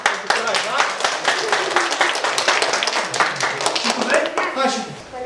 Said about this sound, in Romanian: Asta aplaudăm.